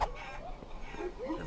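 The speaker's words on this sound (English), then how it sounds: "I'm not done beating up chickens." Chickens cluck in the video game Guacamelee, with short fowl calls scattered across the moment against a faint background.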